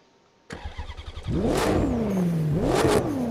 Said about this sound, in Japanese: じゃあちょっとエンジンかけてみます。 どんなエンジン音なのか